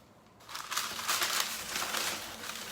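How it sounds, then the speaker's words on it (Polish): Paper being torn close up, a crackly ripping and crinkling that starts after a brief quiet and continues in uneven bursts. "Urwam kawałek papieru."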